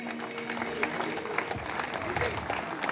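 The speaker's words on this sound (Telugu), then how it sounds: "చప్పట్లతోటి" An audience claps in welcome at the 54th annual Singareni safety fortnight celebration at the Kasipet mine, a steady wash of hand claps lasting throughout at moderate level, with a faint voice murmuring underneath.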